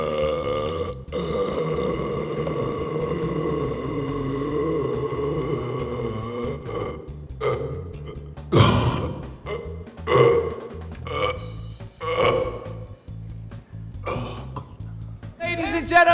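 A man lets out a single drawn-out burp in a world-record attempt, a loud rough belch that rumbles continuously for several seconds before breaking into shorter croaky bursts and gulps toward the end.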